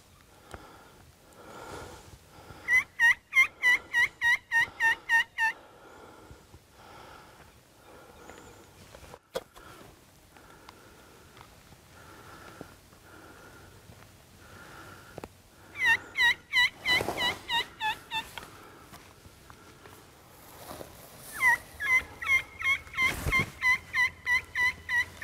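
A flock of wild turkeys, including a big tom, gobbles in an open area, with several rapid rolling gobble bursts at moderate distance separated by quieter gaps of rustling and soft movement.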